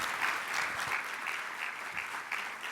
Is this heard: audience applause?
yes